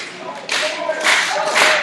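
A wrestling crowd at a Discovery Wrestling show claps and cheers in a loud, continuous roar that swells in waves, with no voices clearly heard above it.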